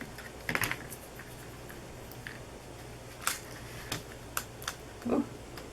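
Scissors snipping through sequin pieces in a paper craft kit: a few faint, sharp close clicks scattered over several seconds against a quiet room.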